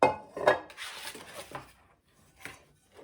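Metal cookware clanks and scrapes up close, a couple of sharp knocks followed by softer rubbing and a final light clink.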